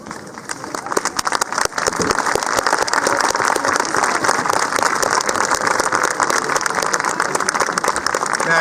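An audience at a class of 2019 graduation ceremony applauds, the clapping building quickly into a loud, dense, sustained wash of many hands that carries through to the end.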